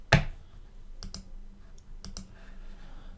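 Computer mouse clicks in a Scratch clicker game, one sharp loud click at the start followed by two pairs of quick lighter clicks about a second apart, close and dry against a quiet background.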